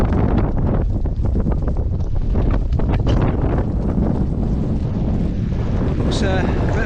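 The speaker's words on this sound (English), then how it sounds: "It is absolutely blowing a gale." Strong gale wind on a rocky Scottish Munro mountainside, roaring and buffeting straight into the microphone without letup, with a voice partly buried under the wind.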